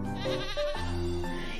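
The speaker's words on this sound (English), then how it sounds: "Let me ask the sheep whether he has any wool or not." A sheep bleats in one continuous, wavering cry, loud and close, with no other sounds around it.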